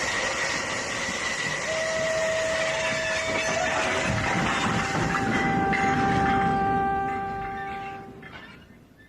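Express train running in a radio drama, the Cromer Express roaring steadily with a rumbling rail clatter and long sustained whistle tones, loud and close before easing off at the end.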